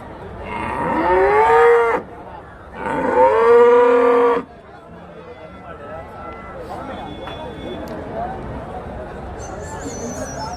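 Cows mooing at a rural weekly cattle market in Karimangalam, Dharmapuri district, Tamil Nadu, with HF and Jersey cattle. Two long, loud moos come close together near the start, then a steady murmur of crowd and market noise continues.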